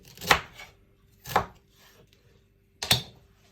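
Three separate knife chops through fresh ginger for a green juice, each a sharp, close thud on a cutting board, spaced unevenly with quiet gaps between them.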